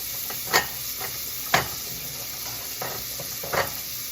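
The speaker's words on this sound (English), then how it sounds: "We're going to stir that around." Sausage corn chowder with red peppers stirred in a pot on the stove, with a few distinct scraping spoon strokes over a steady sizzle and hiss of frying, fairly close, no talking.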